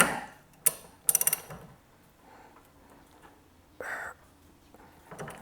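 A blade being locked and tightened onto a trail trimmer gives a few short mechanical clicks: a single snap, then a quick ratcheting burst of four or five clicks, and later another brief click, all close and otherwise quiet.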